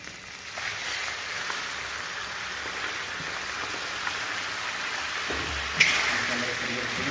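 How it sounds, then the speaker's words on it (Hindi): Chicken pieces frying in hot oil with browned garlic for Chinese egg fried rice, a steady bright hiss like rain running the whole time with a sharper crackle burst near the end. "अब इसके अंदर मैं ये चिकन डाल रहा हूँ।"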